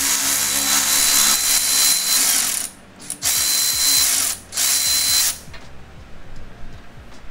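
A wrench ratchets steadily on a 14 mm nut at the back of a car part in a junkyard, its rapid clicking continuous and close, pausing briefly twice before the rhythm resumes and then grows more irregular.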